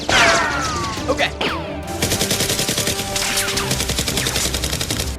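A Nerf blaster fires in a mock gunfight staged in an abandoned neighbourhood, opening with a loud burst followed by a fast, steady rattle of repeated shots close by.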